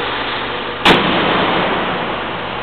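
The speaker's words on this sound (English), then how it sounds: "We'll go ahead and close the hood." A single sharp slam cuts through steady engine noise as a BMW 850 hood shuts, the engine hum continuing after.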